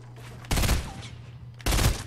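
Bursts of rapid gunfire in the Fortnite video game: two loud, close volleys, the first lasting over a second and the second starting shortly after a quiet gap, over a low background hum.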